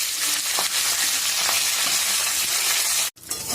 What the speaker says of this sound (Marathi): आता आपण कढीपत्त्याला चांगलं क्रिस्पी करून घेऊया तेलामध्ये.